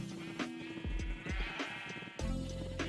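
A Minecraft sheep bleats several times in quick succession, loud and close, with synthetic game-like tones under the calls.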